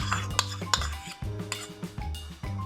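A metal spoon scrapes and clinks against a pot in uneven strokes, stirring thick chicken massaman curry with potatoes and onion at close range.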